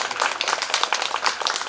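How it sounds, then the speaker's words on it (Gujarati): Brief burst of audience clapping at a tribute programme, welcoming a singer to the stage: quick, uneven claps from a crowd, moderately loud and close. "એને એકવાર જોરદાર તાળીઓના ગણગણાટથી વધાવો સાહેબ"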